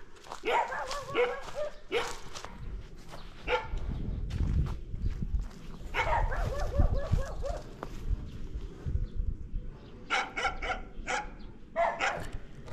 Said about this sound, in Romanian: Să trezim câinii.